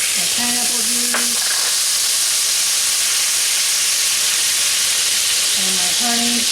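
Pineapple juice poured into a hot pan over seared pork chops on medium heat hisses in a steady broadband sizzle, broken by a few short clanks and scrapes of utensils.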